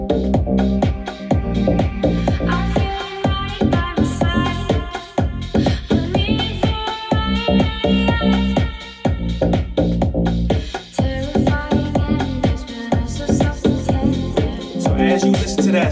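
A deep house EDM track plays loud and continuous, with a pounding kick drum driving a steady four-on-the-floor beat under sustained synth chords and percussive knocks.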